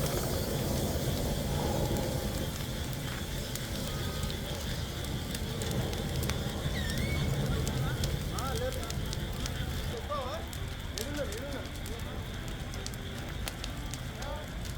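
A private travels bus burns fiercely after colliding with a container lorry in Nandyal, a steady dense roar and crackle of flames filling the scene, with faint voices mixed into the background.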